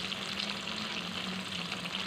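Battered catfish frying in oil over medium-low heat gives a steady, dense sizzle that runs unbroken throughout, close and even, with no voices.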